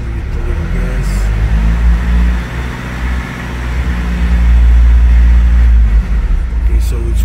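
A Mercedes car engine (W204/W212/W207 family) idles and gets a light blip of throttle, a steady low rumble that swells slightly toward the end, with faint background voices.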